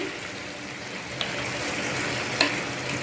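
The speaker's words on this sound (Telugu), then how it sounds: "బాగా కలపాలి ఇది, సో దట్ గుడ్లో అంతా ఉప్పు కారం పడుతుందన్నమాట" Fried eggs being stirred into a curry masala in a pan for an egg and dry prawn curry, a steady close sizzle broken by two short scraping knocks of a spoon, with no speech.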